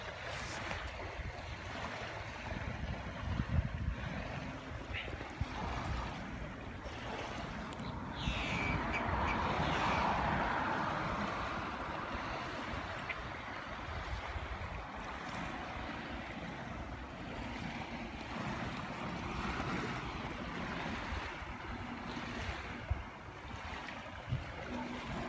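Breezy wind and choppy small waves at a lake, a steady broadband wash that swells slightly in the middle and continues without talk.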